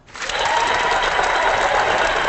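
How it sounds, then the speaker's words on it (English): Hand clapping from a small group in a studio setting, a dense, steady patter of claps that swells in quickly and holds loud and close for the whole stretch, with no voices over it. "hand clapping begins."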